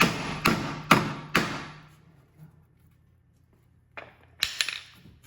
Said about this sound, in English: So whatever I'm hitting with the hammer